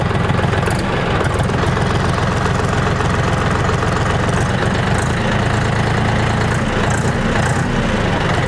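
A new DTZ 354U tractor engine idles cold, a steady, loud, even diesel rumble with a regular low pulse that holds without change from start to finish, no voices over it.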